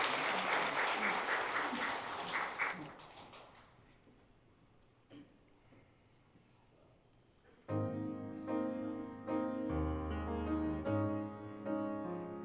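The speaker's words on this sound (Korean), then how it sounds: "하나님께 영광의 박수, 우리 성가대원들의 격려의 박수, 큰 박수로 하고" A church congregation applauds the choir with a burst of dense, close clapping that thins out and dies away over a few seconds, followed by quiet and then music.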